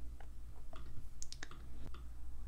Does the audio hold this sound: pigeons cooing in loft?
no